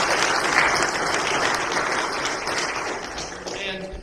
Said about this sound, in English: Let's give these two ladies a good round of applause.